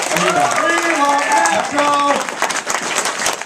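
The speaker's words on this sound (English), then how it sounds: "Can you get a round of applause for Kaiser?" A panel audience applauds, a thick wash of clapping running the whole length while a voice speaks over it near the start.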